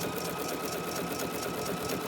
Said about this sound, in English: This stitch is the perfect width. Everything is perfect about this stitch in conjunction with foot number 23.